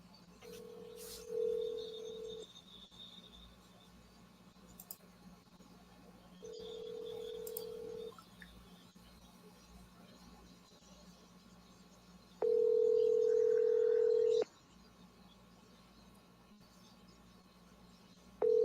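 Outgoing telephone call: short bursts of touch-tone dialing beeps, then a steady tone sounding alone in a quiet room, with faint clicks between.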